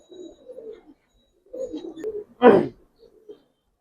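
Giribaz pigeons cooing close by in short throaty bursts with pauses between them, then one louder, fuller coo near the end, over an otherwise quiet background.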